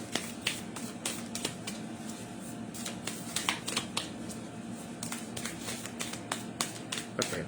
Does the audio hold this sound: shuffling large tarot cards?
yes